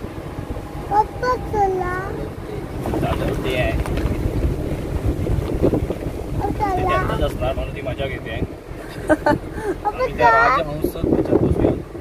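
A motorboat ride at Kunkeshwar on the Konkan coast, with steady engine and water noise buffeted by wind on the microphone, while adults and children talk throughout.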